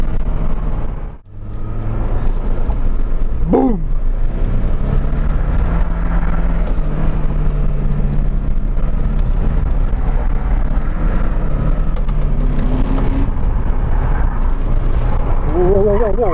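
A car drifting through a corner, its engine droning loudly and steadily with rising and falling pitch, and a brief dip near the start; occasional voices over it.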